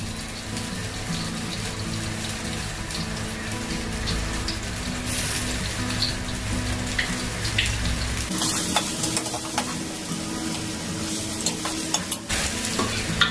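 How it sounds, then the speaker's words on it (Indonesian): Shallots and garlic sizzle steadily in hot oil, a continuous crackling hiss that grows louder and busier partway through, with occasional stirring scrapes. "sekarang aku mau tumis bawangnya ya guys, bawang merah sama bawang putih"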